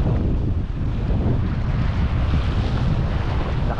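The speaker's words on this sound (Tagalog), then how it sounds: "Lakas ang hangin mga lodi" Strong wind gusting steadily over open sea from a fishing boat at early morning, a dense continuous roar with low buffeting across the microphone throughout, no talking.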